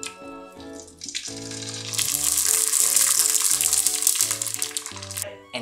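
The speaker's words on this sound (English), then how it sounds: "Let's fry another one." Salmon skin crackles and sizzles in hot oil as it fries into crispy chips. A bright, steady, close hiss starts after a moment and carries under background music.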